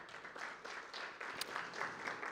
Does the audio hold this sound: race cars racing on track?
no